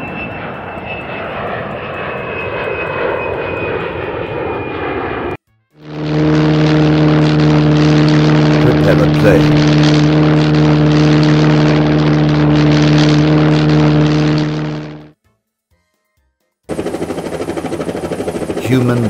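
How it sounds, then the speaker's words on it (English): A private jet's engine roars in a steady, loud, tonal whine for about ten seconds, preceded and followed by other engine drones, with a brief silent gap near the end. "Private jet."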